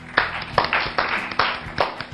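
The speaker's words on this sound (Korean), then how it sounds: "여기서 박수." Audience clapping breaks out in a church broadcast studio, a handful of sharp, uneven claps in quick succession, fairly close and loud with no voices over them.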